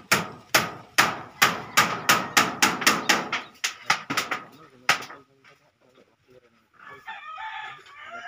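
A hammer drives nails into corrugated metal roofing during house construction, a run of about sixteen loud, ringing metallic strikes in uneven rhythm, then quiet, with a rooster crowing near the end.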